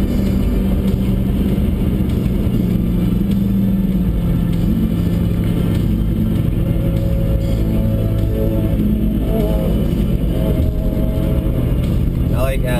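Motorcycles on a road, heard from a car driving alongside them. A loud, continuous engine drone and road rumble fill the whole stretch, with rising rev swells near the end, and people talk over the noise.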